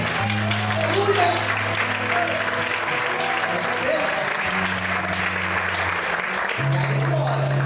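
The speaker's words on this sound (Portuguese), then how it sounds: "Você pode aplaudir a Deus por isso?" A church congregation applauds God in a sustained, moderately loud round of clapping, with sustained organ or keyboard notes and some voices underneath the dense patter.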